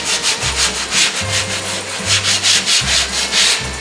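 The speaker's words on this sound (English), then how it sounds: "I'm gonna over sand it" Back-and-forth sanding on a plastic bumper cover, feathering paint out around a repaired area, with steady rhythmic strokes close up and a low hum underneath, no talking.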